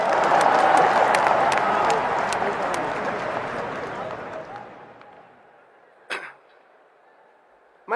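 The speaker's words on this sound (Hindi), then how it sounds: "ठोको ताली।" Audience applause at a lively public gathering, loud dense clapping and crowd noise that gradually fades over several seconds, followed by a brief sharp burst and quiet.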